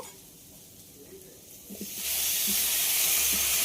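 Salt-soaked wet cauliflower drops into a pan of potatoes and carrots frying for bhoger khichuri, and the quiet sizzle suddenly swells into a loud, steady hissing roar of oil spitting, close by, after a few soft thuds.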